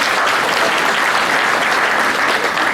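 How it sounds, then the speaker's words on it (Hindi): Audience applause in a hall, a dense, steady burst of many hands clapping at full loudness, with no voices over it. "एक जोरदार तालियां हो जाए उनके लिए।"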